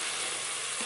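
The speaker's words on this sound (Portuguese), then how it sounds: "já tá chiando" Steady broadband sizzle of soup vegetables and seasoning frying in a hot pan, continuous and close, with no voices.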